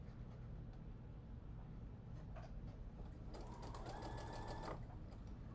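Domestic sewing machine stitching the neckline of a man's shirt being turned into a little girl's dress, a soft steady mechanical whir, quiet and close, with a brief faster burst of clattering needle action partway through.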